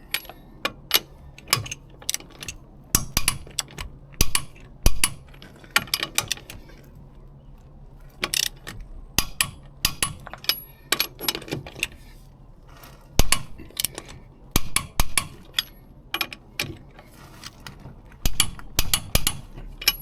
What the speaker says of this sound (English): Torque wrench is set to 76 Newton meters. That's for these nuts.